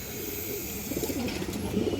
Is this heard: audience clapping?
no